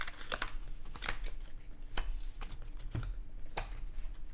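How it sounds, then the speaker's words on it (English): Board game cards shuffled by hand on a table give a string of soft, irregular riffling clicks and taps, close and fairly quiet, with no voices. "And those get shuffled and put to the bottom of the pile."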